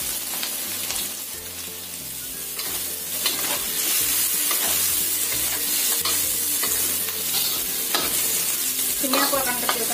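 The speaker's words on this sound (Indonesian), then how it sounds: "Kita tambahkan wortelnya." Carrots stir-fry in a pan with cauliflower, a continuous sizzle broken by repeated scraping stirs over about ten seconds, close and steady with no voices.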